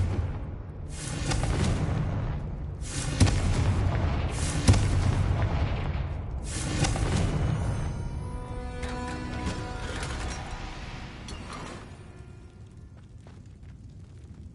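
Confringo fire-blast spell in Hogwarts Legacy set off repeatedly, a string of deep booming explosions about every second or two, loud and close, fading into a lingering ringing, crackling tail.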